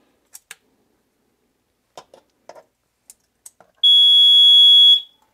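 A homemade sump pump failure monitor sensor sets off a loud, steady high-pitched electronic alarm tone lasting about a second, preceded by scattered light clicks and taps from handling the device.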